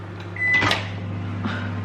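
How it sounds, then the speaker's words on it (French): Microwave oven running while melting squares of dark chocolate, a steady low electric hum throughout with a brief clatter and a faint beep-like tone near the start, no talking. "moi je l'ai fait fondre en micro-ondes"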